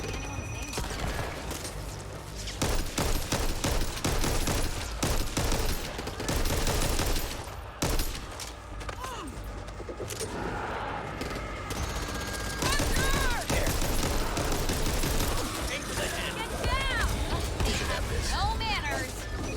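Rapid minigun fire in the co-op zombie shooter Back 4 Blood on Nightmare difficulty, sustained dense bursts mixed with impacts and game effects, loud and continuous with players talking over it.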